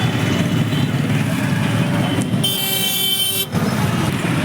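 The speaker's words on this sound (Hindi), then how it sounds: "शोर बहुत हो रहा है, ट्रैफिक की आवाज़ आ रही है" Busy Indian road traffic heard from a rickshaw after a jam, a constant loud roar of engines with a long, high car horn blast near the middle and a brief toot before it.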